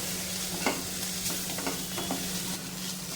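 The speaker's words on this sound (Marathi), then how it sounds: "छान असं आपल्याला कोथिंबीर वगैरे छान अशी परतली पाहिजे" Coriander and turmeric sauté in a pan for paneer bhurji, a soft continuous sizzle with several spoon scrapes and taps as the mixture is stirred.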